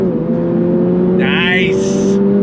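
A sports car engine at full throttle, a 2024 Toyota GR86 or Honda Civic Type R, drones steadily at high revs with a harsh, buzzing tone, close by, while someone shouts excitedly over it.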